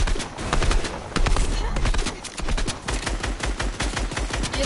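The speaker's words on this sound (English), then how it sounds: "Come on, keep shooting through it." Rapid gunfire from a Fortnite match, dense bursts of shots cracking in quick succession, loud and close, continuous for several seconds with little pause and only faint traces of voices beneath.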